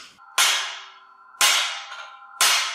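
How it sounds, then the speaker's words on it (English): A grease gun held upside down and struck hard to free trapped air gives three loud, sharp metallic bangs about a second apart, each followed by a short ringing decay, close by. "Sometimes when you can't get any grease to come out of your grease gun, that'll do the trick. Just beat the snot out of it upside down."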